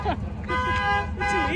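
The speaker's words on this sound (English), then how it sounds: "Somebody setting off alarms." Car horn honking in short sustained toots at a car show, with an alarm-like tone that pauses and resumes, heard close and loud under people talking.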